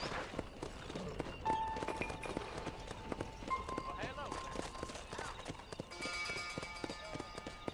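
Horse hooves clip-clop steadily in the video game Red Dead Redemption, a rhythmic stream of hoofbeats at moderate volume, running beneath someone talking throughout.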